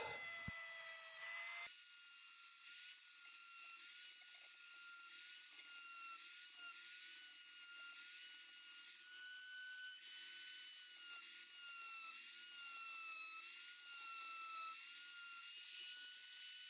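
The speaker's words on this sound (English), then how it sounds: "grinding a dimple into the middle of each center pin, and then I'll drill it out with a starter bit" A steady high-pitched whine of a small rotary tool grinding a dimple into a pocketknife's metal rivet pin and drilling it out with a starter bit, continuous for the whole stretch after a brief start.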